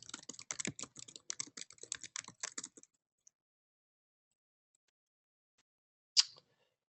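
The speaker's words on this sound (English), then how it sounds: "Let me just type here" Rapid keystrokes clatter on a computer keyboard for about three seconds, close and crisp, then stop, leaving silence broken by one sharp click near the end.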